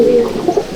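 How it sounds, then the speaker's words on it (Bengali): A pigeon in a loft coos loudly and close, a low rolling note followed by a couple of short pulses, with no talk. "দেখুন বন্ধুরা, এই হচ্ছে পায়রা।"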